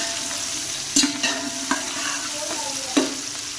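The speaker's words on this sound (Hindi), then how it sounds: "तो प्याज को हम अच्छे से करेंगे ब्राउन।" Onions sizzle steadily in hot ghee up close, with occasional scraping and stirring clatters from a utensil against the pan.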